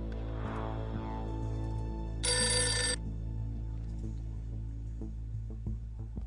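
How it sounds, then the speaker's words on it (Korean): A telephone bell rings in a short bright burst over a steady low tonal drone, then the drone continues alone. "전화벨이 울리고 있었다."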